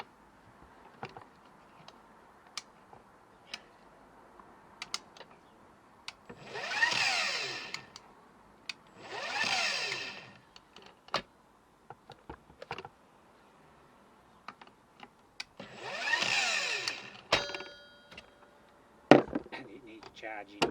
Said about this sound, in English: 18 volt, cordless, and we're just going to chop this wood.